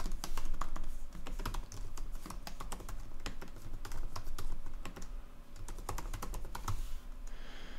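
Steady, fast typing on a computer keyboard: crisp key clicks in quick uneven bursts, close up and continuous, with no talking.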